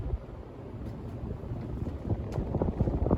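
A Casablanca Delta II ceiling fan running on high speed gives a steady, rushing whoosh of moving air, a loud, continuous windy roar with low rumble, close and without talk.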